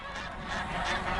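Geese honk on a goose farm raised for down feathers. A dense, continuous chorus of honking fills the whole moment, loud and close, with no speech.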